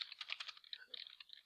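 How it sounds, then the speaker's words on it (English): Quick typing on a computer keyboard: a rapid, uneven patter of light key clicks, faint and close, with no talk over it. "Sorry for bad typing."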